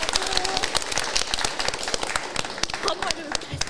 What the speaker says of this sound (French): Je pense qu'on peut l'applaudir encore.